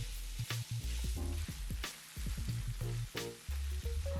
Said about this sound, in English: we need to brown about 6 ounces of ground beef